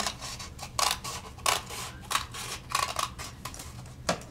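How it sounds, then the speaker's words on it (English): Scissors snip through paper in a steady series of short, crisp cuts, close and clear, with no talking. "I'm going to take my scissors and trim from that corner"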